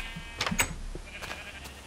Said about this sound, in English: Don't let any sheep out.